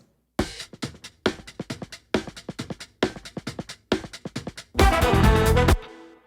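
Snare drum heard through its dedicated close mic, crisp sharp cracks in quick repeating funk-style patterns with ghost notes, ending in a dense, sustained roll or wash of hits before stopping; close, loud, no voices.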